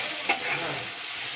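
Masala frying over low heat in a pan hisses with a steady, even sizzle while a spoon stirs it, giving one brief scraping clack early on, close and unobscured by talk.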